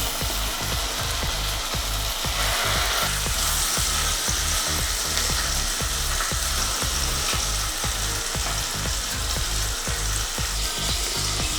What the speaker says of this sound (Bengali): বাটার গরম হয়ে গেছে, এবার আমি দিয়ে দেবো বোনলেস চিকেন।